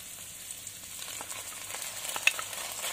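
Crushed ginger is stirred and fried in a pan for tochong bangus, giving a soft steady sizzle with faint scraping strokes of the utensil, quiet and close.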